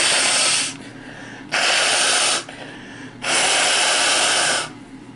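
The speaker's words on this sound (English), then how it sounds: "blow my nose." Someone blows their nose up close in three long, forceful bursts of breathy noise separated by short pauses.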